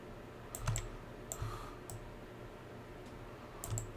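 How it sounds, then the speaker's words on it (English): Computer mouse left clicks, a few quiet, sharp clicks in irregular succession, faint against low background hiss. "left clicking"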